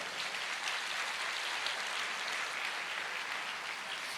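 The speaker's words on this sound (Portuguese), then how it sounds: "Pode aplaudir ao Senhor." Steady applause from a church congregation, a dense even patter of many hands clapping continuously at moderate volume.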